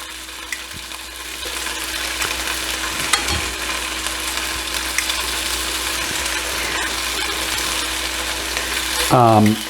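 Small cut pieces of steak for pepper steak browning in an uncrowded pan, producing a constant close sizzle with occasional light clinks and scrapes of stirring throughout.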